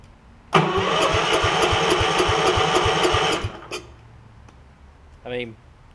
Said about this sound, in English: See if it will crank over.